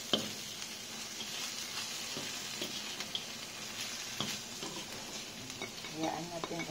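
Eggs and small fish sizzle in a pan while being stirred, giving a soft continuous hiss broken by scattered clicks and scrapes of the utensil against the pan, fairly quiet and close.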